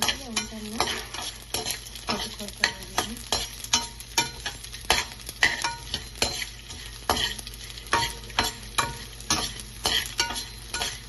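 Edible gum frying in ghee in a pan, sizzling steadily with repeated rhythmic stirring scrapes through the whole stretch, close and moderately loud with no talking.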